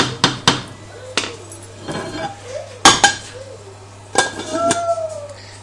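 A pot of white jollof rice (benachin) being stirred and then covered: a spoon scrapes and clanks against the metal pot, with a few sharp, loud clangs as the lid goes on, close by.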